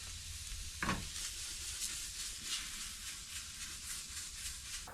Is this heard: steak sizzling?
yes